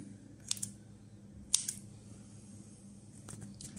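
Scissors snip small steam slits into the pastry top of an eggplant and ricotta bake, giving a few quick, crisp clicks close to the mic against a quiet kitchen hum.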